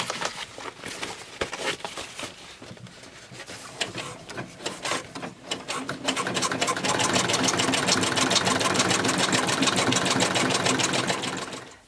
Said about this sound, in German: nähe da jetzt mit dem Fuß dran vorbei